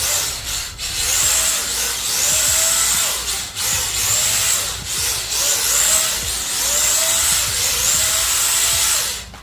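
A brushless-upgraded LDRC 1804 Mazda MX5 Miata mini RC drift car whines in repeated rising and falling pulses as it drifts, close and fairly loud over a background of surface rubbing, with no speech.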